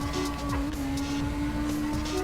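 A Mazda RX8 engine in the racing video game CarX revs high through gear changes, its whining tone stepping down and back up, steady and fairly loud with no voices.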